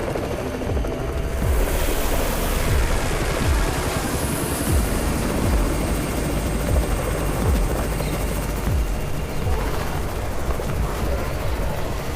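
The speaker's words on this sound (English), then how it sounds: "It's the Raven's chopper! We have backup!" Helicopter arriving in the Undawn zombie-survival game, a steady dense rotor roar holding loud for the whole stretch with scattered sharp bursts like distant gunfire mixed in.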